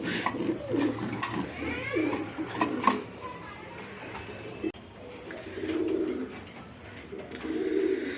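Soft cooing from racing pigeons repeats in low murmuring bursts, close by, with some background clatter and faint voices.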